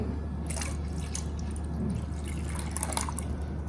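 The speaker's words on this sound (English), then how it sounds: "then add water as much as you need, like gravy, 1 cup, 2 cups, depends on you" Water poured into a pot of green coconut curry, a steady close trickle and drip over low kitchen hum, with no talking.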